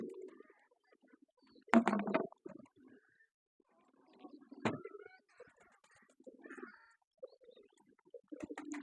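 Soft, low coos from caged pigeons drinking water come and go in short bursts, separated by quiet gaps and a few sharp clicks and knocks nearby.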